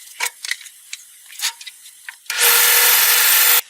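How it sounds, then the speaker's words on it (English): Light knocks and scrapes come first as foam is handled. Then a table saw cutting foam roars in loud and close, holding a steady, harsh whine for over a second before stopping abruptly. "you get a nice clean cut with the table saw, but you do have to weight that foam down"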